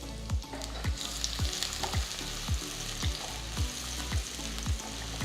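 Sliced garlic sizzling in hot oil in a kadai, a steady crackling fry with regular soft clanks from stirring roughly every half second.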